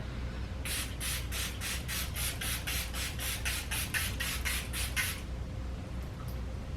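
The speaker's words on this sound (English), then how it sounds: "I swear setting spray makes the biggest difference for your makeup" Charlotte Tilbury makeup setting spray hisses in about fifteen quick, evenly spaced pumps close to the microphone, then stops, leaving a quiet room.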